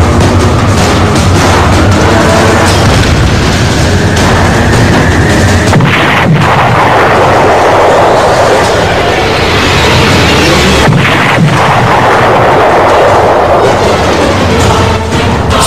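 A submarine-launched ballistic missile from the nuclear submarine INS Arihant fires, giving a loud, sustained roaring rumble with booming bursts that persists throughout without speech.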